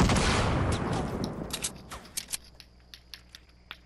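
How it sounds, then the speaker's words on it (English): Fortnite gunfire from an enemy shooting down from a hill: a dense burst of shots at first, then sharp single cracks spaced irregularly and fading in loudness. "shoot at us from up on the hill"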